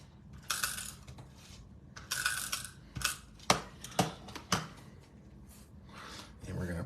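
A Tape Runner XL dry adhesive runner laying tape onto paper while making a card, giving a few close ratcheting clicks and rolling rasps in short bursts over quiet room tone.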